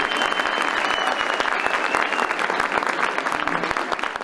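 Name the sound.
applause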